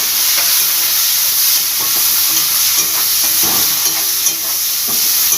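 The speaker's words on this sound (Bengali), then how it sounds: "এবার একটা বড় পেঁয়াজকে আমি কুচিয়ে রেখে দিয়েছিলাম সেটা দিয়ে দেব দিয়ে ভালোভাবে ভেজে নেব" A large chopped onion, added after whole cumin, fries in hot oil in a pan with a loud, continuous sizzling hiss and occasional soft pops and clinks, close and without speech.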